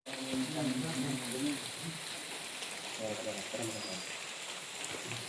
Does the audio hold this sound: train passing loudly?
no